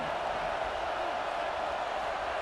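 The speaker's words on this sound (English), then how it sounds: "Listen to this crowd just shaking the girders of this place" A packed stadium crowd at a Badgers football game roars in a dense, unbroken wash of cheering that holds steady and loud from start to finish.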